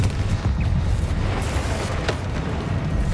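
A Confringo fire spell striking in the video game Hogwarts Legacy, a dense rumbling blast of explosive noise that stays loud and sustained through the whole moment with no talk.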